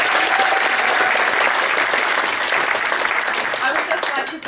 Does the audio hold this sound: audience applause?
yes